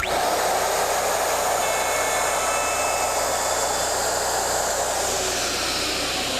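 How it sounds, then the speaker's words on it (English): A router cutting dovetails on a Porter Cable Omnijig 5116 dovetail jig, a loud, continuous high-pitched whine that holds steady and close for several seconds. "Wait till the router comes to a complete stop before removing it from the template."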